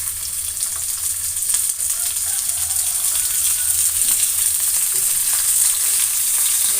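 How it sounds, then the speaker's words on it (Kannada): Onion, ginger and tomato frying in a pan for sprouted horse gram sambar, a loud, steady hiss of sizzling with faint stirring clicks and no talk. "ಇಷ್ಟು ಚೆನ್ನಾಗಿ ಫ್ರೈ ಮಾಡ್ಕೊತಾ ಇದ್ದೀನಿ."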